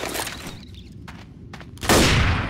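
Fully automatic shotgun in Left 4 Dead, a burst of loud, close blasts, then a short lull with a few sharp cracks, and another heavy blast that rings out at the end.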